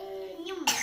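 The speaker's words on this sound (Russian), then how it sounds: "Так, ты что, кашляешь?" A child gives a single short cough at the end of a brief moment of voiced sound, close and fairly loud.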